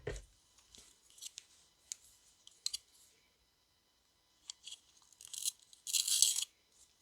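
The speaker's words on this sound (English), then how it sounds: "This actually needs to be sharpened a little bit" A makeup pencil is sharpened in short, quiet bursts of dry scraping and clicking separated by pauses, ending in a louder, longer grinding stretch.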